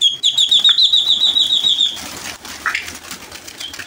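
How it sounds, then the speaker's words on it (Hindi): Pigeons beat their wings close by in a quick run of flaps. After it, a short flutter and faint coos follow. "बहुत प्यारे कबूतर हैं"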